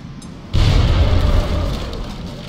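A grenade explosion in the XCOM video game bursts in with a loud, deep boom after a moment of quiet, then rolls off into a lingering rumble that fades slowly.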